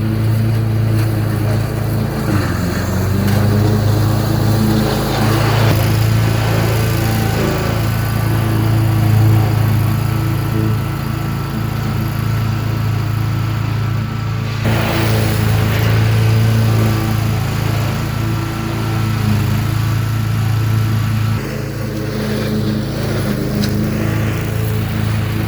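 A Gravely ProTurn 152 zero-turn lawn mower runs steadily and loudly close by on a muddy lawn, its engine drone continuous throughout with slight shifts in load and pitch.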